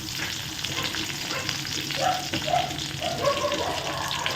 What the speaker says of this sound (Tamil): வெங்காயம் பீன்ஸ் எல்லாத்தையும் ஒன்றா போட்டு நம்ம வதக்கிக்கலாம்